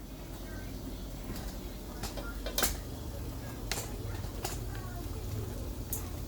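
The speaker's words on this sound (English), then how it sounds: "You stir this around a little bit" Chicken fettuccine alfredo stirred in a pan, intermittent metallic scrapes and clinks of utensil against pan over a low steady background hum, with a few sharper taps.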